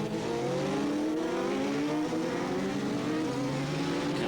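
Thunder bike motorcycles fitted with road tyres race on a British championship circuit, engines droning loud and continuous as several machines rev and pass together.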